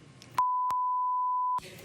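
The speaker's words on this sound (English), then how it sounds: "what everybody at home just heard was beep, beep, beep" A steady, pure electronic censor beep from a TV talk show cuts over the speech and holds for just over a second, loud and flat, with muffled talk before and after it.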